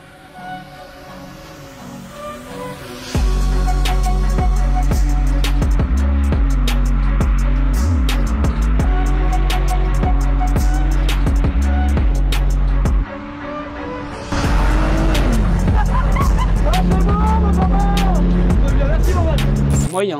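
An Audi S4 or BMW E30 being driven, a steady loud engine drone that holds through the run, with a brief dip in the middle, while people talk over it.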